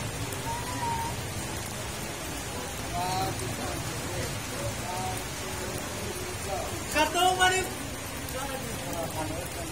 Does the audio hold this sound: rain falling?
yes